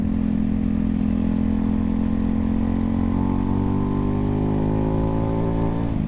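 A Ducati Hypermotard 698 Mono single-cylinder engine drones loud and close, then revs rise steadily over the last few seconds with no voices.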